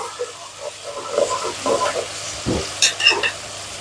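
Garlic ginger paste frying in a pan for a biryani, a soft sizzle broken by irregular stirring scrapes and clinks, fairly close and moderate in volume, with no speech.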